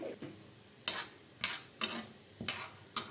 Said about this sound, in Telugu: ఒక స్పూను జీలకర్ర, ఒక స్పూను ఆవాలు, అవి కొంచెం చిట్పట అనే వరకు వేగనిద్దాము